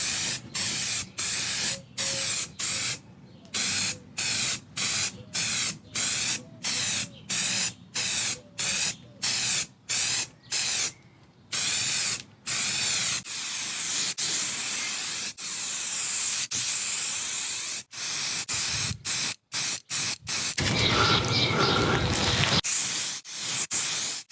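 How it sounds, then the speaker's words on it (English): An aerosol can sprays stone chip coating onto a DIY wooden log store in short, repeated hissing bursts, then longer continuous blasts toward the end, loud and close with brief silences between. "it's had a couple of good coats of stone chip"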